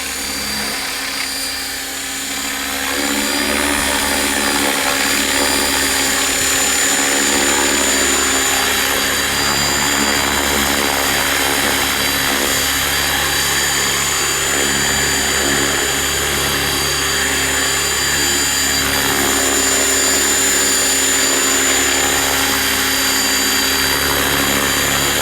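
A radio-controlled T-Rex helicopter flies and comes down to land on a pad. Its loud, steady rotor and motor whine runs nearly unbroken throughout.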